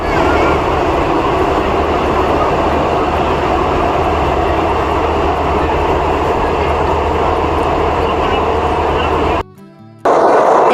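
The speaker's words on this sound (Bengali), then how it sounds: "আমরা এখন আছি ট্রেনের ভেতরে, আর ট্রেনটা যাচ্ছে টানেলের মধ্যে দিয়ে" From inside a train on the Vaishno Devi route, the carriage roars loudly through a tunnel in a dense, steady rumble that cuts out briefly near the end before returning.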